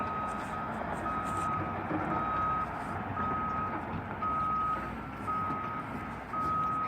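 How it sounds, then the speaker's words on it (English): A truck's backup alarm sounds outdoors in the morning, a steady string of evenly spaced electronic beeps repeating over background rumble, moderately distant but clearly audible. "18 months of that damn backup noise."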